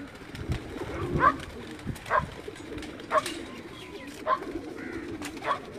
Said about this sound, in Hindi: प्रवासी कबूतर ने जी।